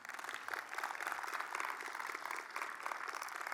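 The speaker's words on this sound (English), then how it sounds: "Please give them a round of applause." An audience at an entomology games final round breaks into applause, a soft, fairly distant patter of many hands clapping steadily for several seconds.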